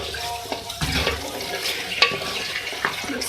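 Water poured into a pan of potato and capsicum curry in a home kitchen, a close gushing splash with a few sharp clinks and stirring knocks over the steady flow.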